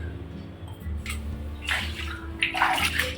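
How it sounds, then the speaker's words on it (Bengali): Water runs from a tap that was left on while a small garden is washed, with a steady low flow broken by louder splashing bursts, close by and with no voices. "কলটা কে জানে চালু রাখছি।"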